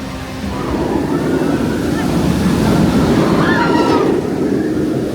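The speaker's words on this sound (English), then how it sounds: "seeing the waterfalls on again, it's fantastic" Waterfalls in Forbidden Valley at Alton Towers theme park rush steadily, a broad continuous wash of falling water mixed with wind buffeting the microphone, with faint background sounds.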